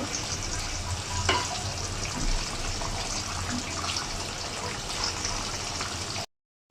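Potato French fries deep frying in oil over medium heat give a steady, close, even bubbling sizzle that runs unbroken before cutting off abruptly.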